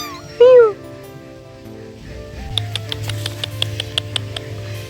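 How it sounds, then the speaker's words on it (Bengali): Small abandoned kittens left behind a house give one loud, rising high-pitched meow near the start, followed by a run of short, repeated faint calls over a low background hum. "দেখো গাইস কত সুন্দর ছোট ছোট বিড়ালের বাচ্চাগুলো আমাদের বাড়ির পেছনে কেউ ছেড়ে দিয়ে গেছে"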